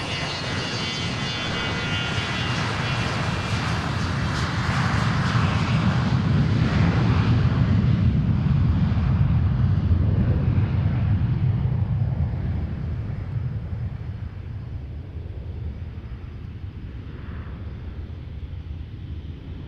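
A private jet takes off from Boeing Field, its engine roar building to a loud broadband rumble midway before fading steadily into the distance, with no talk over it.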